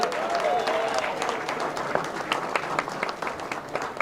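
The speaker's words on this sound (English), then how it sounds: "Let's give a round of applause for Chairman Bob Davis and the Amherst Republican Party." Audience applause at a county Republican Party victory headquarters event in Amherst, a dense sustained clatter of many hands that stays loud throughout, with a few voices calling out beneath it.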